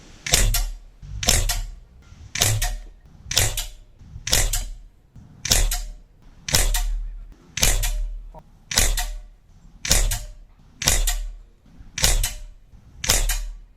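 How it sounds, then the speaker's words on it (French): Twelve evenly spaced shots from an Aselkon MX10S 5.5mm air rifle fired at 25 metres, each a sharp, loud mechanical crack with a short tail, about one second apart and with no talk. "petit retour sur ces premiers tirs à 25 mètres"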